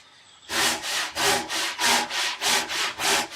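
A hand saw cuts the cheeks of a wooden tenon in steady back-and-forth strokes, about nine loud rasping pulses in an even rhythm, close and unaccompanied by speech.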